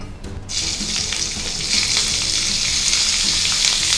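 Chicken frying in a teaspoon of oil in a hot pan, a loud hiss that bursts in after a brief quiet start and keeps up steadily up close, with soft stirring scrapes beneath.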